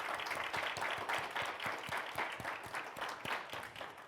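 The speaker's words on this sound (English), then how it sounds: "Give them a round of applause." A keynote audience applauds military veterans who have stood up. Dense, steady clapping from many hands carries across the room at a moderate distance with no voices, and a few sharper claps stand out from the wash.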